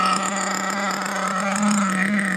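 A 2021 HPI Savage X4.6 RC truck's nitro engine idles during break-in, a steady buzzing drone with a constant pitch and slight wavering, held close and alone throughout.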